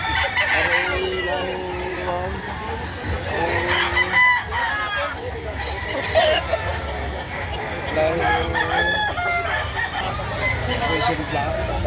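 Roosters crow and chickens cluck repeatedly nearby at a Saturday chicken market, overlapping with people talking and haggling in a busy, crowded setting.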